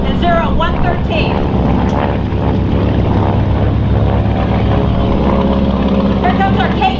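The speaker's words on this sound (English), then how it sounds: "Incoming is Mike Anderson in Zero 113." Propeller-driven Zero warbird flying over a crowd at the Wings Over Wayne airshow, a loud sustained engine drone throughout, with an announcer talking over it on the public address.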